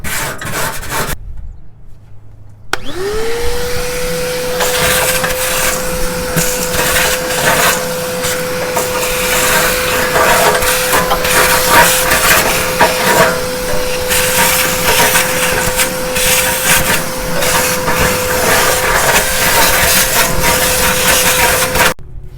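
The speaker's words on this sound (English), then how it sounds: "grab the shop vac and vacuum up a lot of this loose debris" A shop vacuum cleaning out a grill starts up with a rising whine and then runs steadily and loudly, with debris rattling and scraping as it is sucked in.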